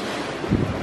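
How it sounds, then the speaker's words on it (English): Ocean waves crashing beside a cruise ship at night, a steady broad wash of surf with wind noise buffeting the microphone and a slightly louder swell midway through. "what I absolutely love though is the crashing of the waves"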